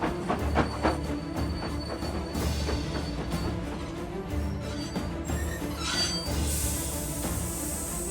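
A train runs steadily with a continuous rumble and faint rhythmic clicking of wheels on track, a few higher screeches near the end, heard close and without talk.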